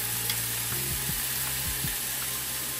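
Food frying steadily in a pan while pasta is cooked, a continuous close sizzle with a few soft scraping stirs, no talking.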